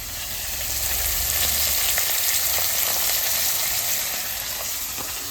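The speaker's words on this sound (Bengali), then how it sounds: "এই ছোট মাছটা ভেজে তারপরে আমি কই মাছটাও ভেজে নেবো" Small fish frying in hot oil in a wok, with a steady, dense sizzle and crackle that runs unbroken throughout at moderate loudness, with no voices.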